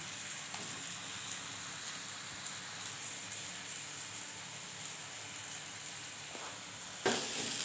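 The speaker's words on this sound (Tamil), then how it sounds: "அந்த மாவை போட்டு வதக்க போகிறோம்" Ground batter sautéing in a pan over low heat, a steady soft sizzle and crackle that runs evenly throughout, with a brief louder scrape near the end.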